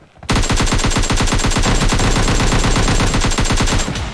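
Sustained automatic gunfire in the mobile shooter game PUBG Mobile Lite: a loud, rapid, continuous burst of shots lasting several seconds before cutting off, with no talk.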